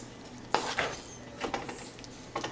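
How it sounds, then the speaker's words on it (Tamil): Carrot halwa thickened with condensed milk is stirred in a pan, with soft scraping and a few sharper clinks of the spoon against the metal, faint and spaced over a quiet background. "நல்லா கிண்டுங்க"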